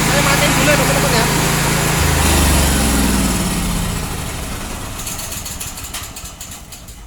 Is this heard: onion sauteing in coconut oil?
no